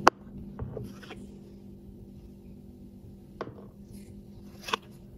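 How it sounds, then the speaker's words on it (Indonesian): A knife strikes a cutting board a few times while cutting jelly into cubes, sparse and irregular, with sharp taps over a faint background hum. "Selanjutnya ini tinggal dipotong-potong kayak gini."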